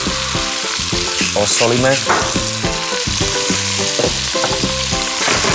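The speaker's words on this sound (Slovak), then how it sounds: "A restujeme ďalej." Chicken pieces and vegetables sauté in a hot pan, a loud steady sizzle and crackle that runs without a break, with a cook's voice speaking briefly over it.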